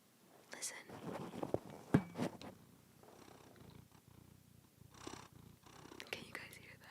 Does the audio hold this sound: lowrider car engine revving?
no